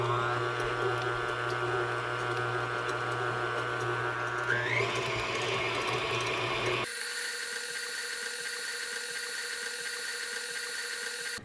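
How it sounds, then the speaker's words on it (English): A small electric hand mixer whirs continuously while creaming butter and sugar in a bowl for cake donuts, its motor pitch shifting midway as the mixture lightens. "butter and sugar into the bowl, and we're gonna cream it"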